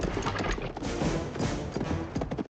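Horse hooves pound steadily at a fast gallop, close and loud, with a cluttered wash of noise over the beats, ending abruptly.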